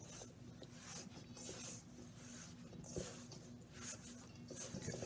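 Hands knead and mix taralli dough with fennel seed, soft rubbing and rasping strokes repeating in an uneven rhythm close by, fairly quiet.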